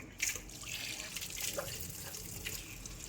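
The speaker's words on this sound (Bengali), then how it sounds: "এই দেখো মটরশুঁটি ছাড়ানো হয়ে গেছে, এবার না এটা ধুয়ে যাবে। চলো ধুয়ে নিই।" Tap water runs steadily over shelled peas being washed in a sink, a soft continuous splashing stream close by for a few seconds.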